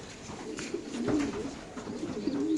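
A red checker pigeon coos in repeated low, wavering phrases, close by and gradually louder, over faint background noise.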